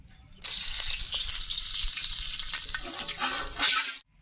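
Dry red chillies and whole spices hit hot mustard oil for khichdi tempering, bursting into a loud, steady close sizzle that swells near the end before cutting off abruptly, no voices.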